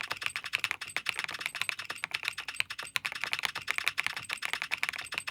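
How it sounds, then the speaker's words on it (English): Typing on a Skyloong GK104 Pro mechanical keyboard, a fast continuous run of close, crisp key clicks with an even busy rhythm and no voices. "This keyboard actually can make sounds when you type or use the number pad."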